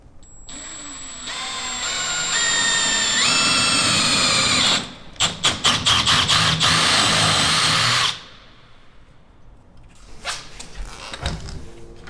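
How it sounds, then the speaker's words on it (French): A power drill bores a 10 mm hole during assembly of a wooden chalet, a loud close whine that rises in pitch, stutters in short bursts, then stops, followed by faint handling knocks. "Il faut que je perce à l'intersection. Avec un diamètre 10 à l'intersection de ce qu'on a vu."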